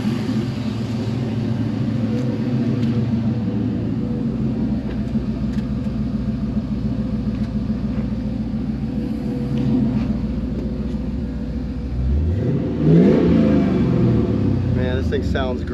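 A 1968 resto-modded Camaro with a swapped LS1 V8 rumbles steadily at idle close by, then revs up sharply once near the end before settling back.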